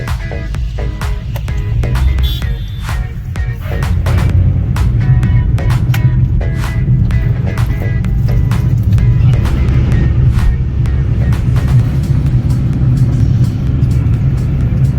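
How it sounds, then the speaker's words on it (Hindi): Steady rumble of heavy traffic at night on the road from Kanpur through Fatehpur toward Prayagraj for Mahakumbh, many cars and vehicles droning continuously and loudly with occasional clicks and knocks, no voices. "कितना रश, और देख सकते हो कितनी सारी गाड़ियाँ सब जा रही है महाकुंभ"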